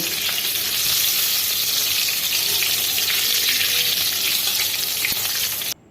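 Potato and eggplant sizzling in hot oil with fenugreek leaves and spices, a loud continuous frying hiss that stops abruptly at the end.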